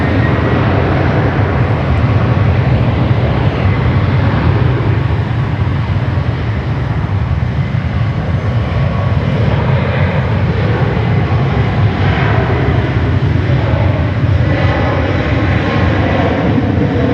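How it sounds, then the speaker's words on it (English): Airbus A330 jet engines roar loud and close at Sydney Airport, a continuous broadband rumble that holds steady throughout with no pauses and no voices. "Lovely sounds there from the A330."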